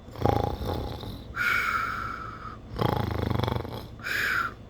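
A person imitates snoring: three or four long, raspy, drawn-out snores with short pauses between, close and fairly loud, with no talking.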